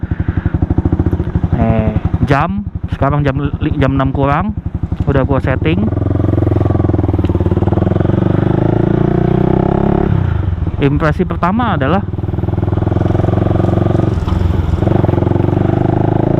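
A Honda CS1 250cc fuel-injected motorcycle engine idles loudly up close and revs in several quick bursts, with rising and falling pitch before settling back to a steady idle, while someone talks over it.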